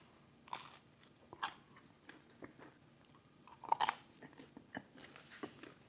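Someone bites into Domino's spicy chicken bacon ranch pizza bread, and close, crisp crunching follows, several distinct bites and chews in an irregular rhythm against a quiet background.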